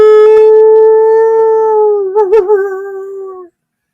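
A person imitates a coyote howl outdoors: one long, loud, sustained tonal howl with a wavering break near the end before cutting off, no other voices.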